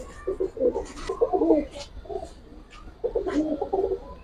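Giribaj and coloured pigeons coo nearby in repeated soft, throaty bursts with short pauses between them, fairly close and moderately quiet.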